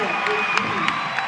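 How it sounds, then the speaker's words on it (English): Crowd at the Nest cheering and applauding during a Sacramento State volleyball championship match, a steady wash of clapping and whoops with a few sharper bursts, with an announcer talking over it. "This crowd absolutely loving it at the Nest."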